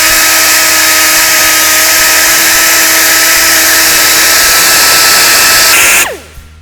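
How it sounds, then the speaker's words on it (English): A rotary tool with a burr bit grinds into a stuck inner race on a Polaris RZR UTV hub, a loud, steady high-pitched whine that holds for about six seconds and then spins down abruptly. "using the burr bit"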